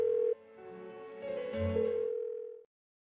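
An unanswered phone call rings on in Persona 4 Golden: a steady electronic ringing tone that shifts pitch slightly, holds for under three seconds, then cuts off into silence.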